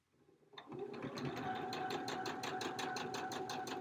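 A sewing machine with a quarter-inch foot stitching quilt pieces, starting up after a moment of quiet and then running at a steady, even rapid patter, close and fairly quiet.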